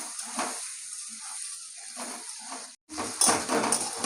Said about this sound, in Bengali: আলুগুলো একটু হালকা করে ভেজে নেবো